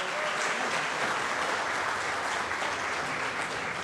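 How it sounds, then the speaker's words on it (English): Audience applause for the sound booth technician at a college percussion camp, a dense, steady round of clapping that holds evenly for several seconds with no talking over it. "Could everyone give a quick round of applause to our person in the back booth there, Christian?"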